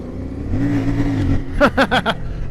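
A CFMOTO 450MT motorcycle engine hums steadily, then gives four quick sharp revs in a row, each rising and falling, fairly close and moderately loud.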